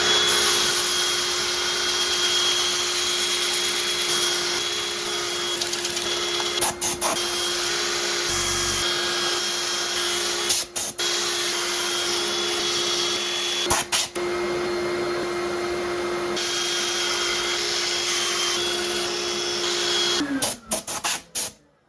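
Wood burl on a lathe being sanded, producing a continuous loud whir and scratchy hiss that runs for about twenty seconds, with a few brief dips and no talking.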